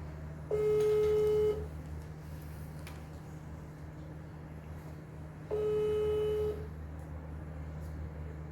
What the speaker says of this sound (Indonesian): Kita telepon Agus ya